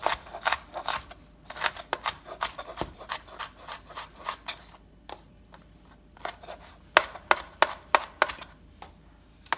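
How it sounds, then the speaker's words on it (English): An onion being diced with a knife on a cutting board, producing quick runs of sharp, close chopping taps in uneven bursts with brief pauses between them and no talking. "Chop up the onion the same way. Just dicing it up a little bit."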